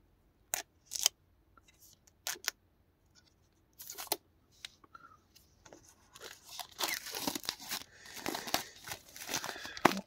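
Blu-ray steelbook being opened and unwrapped: a few sharp plastic tears and crinkles at first, then a busier stretch of crumpling film and rustling packaging close by, with no talking.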